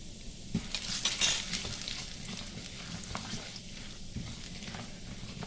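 Chana dal and urad dal fry in hot oil for a masala dosa, giving a continuous close sizzle with stirring scrapes and a loud burst of crackle early on, with no voices.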